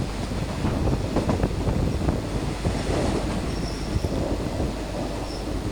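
Thai rapid passenger train 141 from Bangkok to Ubon rolling over rails between Lam Plai Mat and Buriram, a continuous loud rumble with clattering wheels and wind buffeting, heard from inside with no talking.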